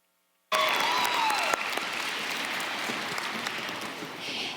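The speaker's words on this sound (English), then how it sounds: "a final round of applause." Steady audience applause at the Oregon FFA State Convention, a dense wash of clapping that starts abruptly and holds loud and even throughout, with no talk over it.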